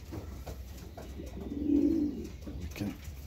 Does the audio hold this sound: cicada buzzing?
no